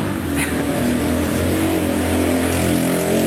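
A loud motorcycle engine revs close by, a continuous rough roar with a strong low rumble and no break, and no talk over it.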